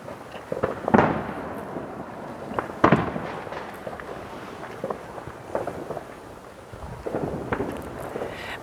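Fireworks on American Independence Day: two sharp, loud bangs stand out early, followed by a scattering of smaller pops and crackles at moderate distance, with no talking.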